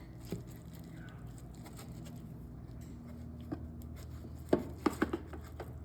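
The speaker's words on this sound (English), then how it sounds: "It's time to cut a piece." A knife cuts through a Denver omelet cooked in an air fryer, a few soft taps and scrapes that come in a quick cluster of light knocks near the end over a quiet kitchen background.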